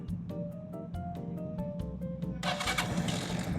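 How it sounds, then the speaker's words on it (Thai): A Stallion SM 150 motorcycle from 2020/21 is started: a few rhythmic cranking pulses build, then the engine catches and settles into a quiet, steady idle. "สตาร์ทง่ายๆเลยครับผมท่อเงียบๆเลยนะฮะ"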